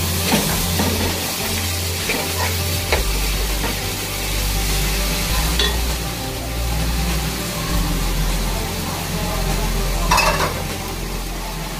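Ginger and garlic fry in a pan for an Eid special family cooking session, giving a steady close sizzle broken by occasional scrapes and stirring clinks against the pan, with no talking.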